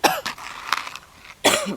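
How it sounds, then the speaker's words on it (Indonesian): Several harsh coughs in a short burst, close to the listener, with a brief gap before a final heavy cough. "Maaf bosku, batuk lagi, batuk ini,"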